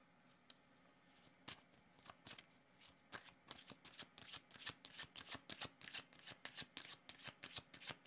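Oracle cards shuffled by hand in a quiet room: a few scattered riffles at first, then a steady, rapid run of crisp shuffling strokes, close and fairly soft.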